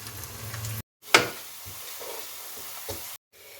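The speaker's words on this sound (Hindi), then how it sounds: "2 मीडियम प्याज जिसकी मैंने स्लाइस में कटिंग की है ब्रीक, उसको फ्राई कर लें" Sliced medium onions fry in hot oil for golden browning in a chicken korma, giving a steady broadband sizzle with a brief sharp crackle burst, broken by two short gaps of silence.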